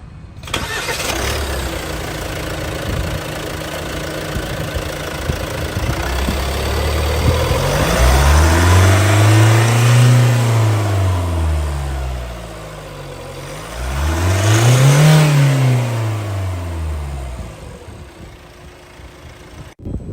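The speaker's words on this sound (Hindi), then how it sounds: "आइए अब डीजल इंजन की साउंड सुनते हैं।" Hyundai Tucson Smart Stream diesel engine running steadily, then revved twice with rising and falling swells around the middle and end, close and loud with no talk.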